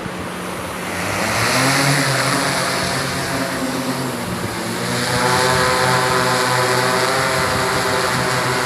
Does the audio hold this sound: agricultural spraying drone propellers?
yes